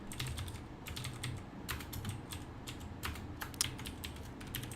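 Fingers tap a computer keyboard in a steady run of light, close keystrokes, quiet and even, with no one speaking.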